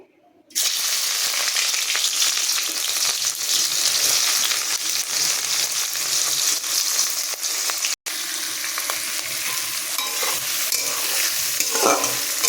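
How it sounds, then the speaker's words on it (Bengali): Chopped onions fry in hot oil in a wok-style pan for lunch fish curry, a steady loud sizzle with occasional stirring scrapes, briefly cutting out near the eight-second mark before resuming. "পেঁয়াজটা ভাজা চলছে, একটু লাল লাল হয়ে গেলে দেখাচ্ছি।"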